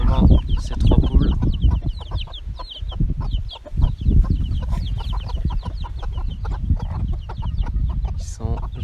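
Three chickens cluck and squawk continuously up close, overlapping busily, with a louder cackle near the end.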